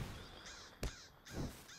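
A bird caws in Lord of the Rings Online, in the Central Gondor area of Dor-En-Ernil: two or three hoarse, faint calls spaced apart, with a sharp click between them.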